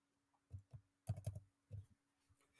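Several light keystrokes on a computer keyboard while typing CSS code, soft clicks in small clusters with quiet gaps, close and faint.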